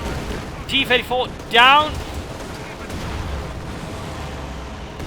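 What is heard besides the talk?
gunfire in Company of Heroes 2 video game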